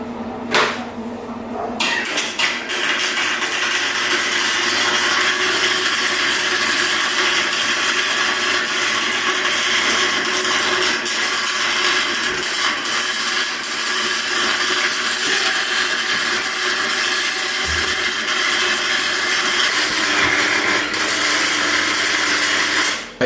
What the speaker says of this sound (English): Let's weld the diff.